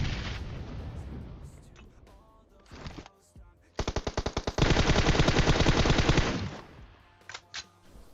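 Grenade blasts and rapid gunfire in the PUBG Mobile video game, with loud sustained bursts of explosive crackle, a stuttering rapid series of shots, then scattered fainter pops toward the end.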